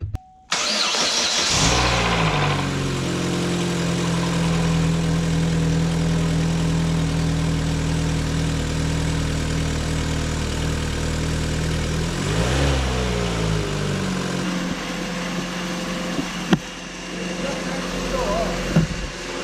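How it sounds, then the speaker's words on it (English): A Chevrolet Cruze engine cranks and catches on its first start after a transmission replacement, then settles into a steady idle that runs on, with a brief rev and some background voices near the end. "So we're gonna start it up for the first time since we've taken the transmission out."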